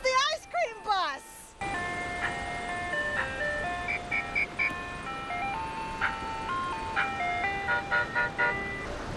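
An ice cream bus parked on a beach plays its melodic jingle for several seconds, moderately near, with faint beach ambience and a brief voice heard at the start.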